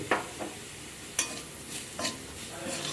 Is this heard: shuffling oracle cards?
no